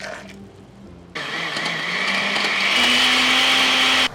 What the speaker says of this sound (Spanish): Pondré en mi licuadora 250 gramos de masa para tortillas, unas 4 tazas del chocolate hirviendo y licuaremos muy bien.